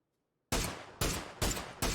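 Four sharp gunshots in PUBG, a battle royale game, fired in a quick uneven burst after a moment of silence, each loud crack followed by a short decaying tail.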